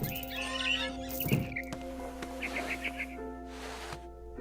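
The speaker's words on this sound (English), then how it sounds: "Then I heard chirping outside my window. It was a barn swallow going back to her nest." Barn swallow chirping in the video game What Remains of Edith Finch: several short, bright chirps and twitters scattered across the clip, set over a steady tonal game ambience and a low hum.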